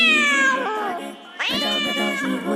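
A long-haired pet cat meows loudly and close up, two drawn-out, wavering cries in quick succession, with no talking.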